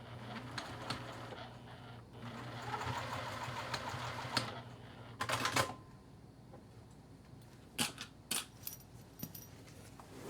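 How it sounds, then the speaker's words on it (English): A sewing machine stitches the inner edge of fabric beside a folded zipper end, whirring steadily in the first half, then stopping for short clicks, bumps and handling noises. "I'm going to take this back over to the sewing machine, and I'm just going to stitch this inner edge of the fabric"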